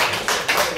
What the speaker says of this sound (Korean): 박수 한번 크게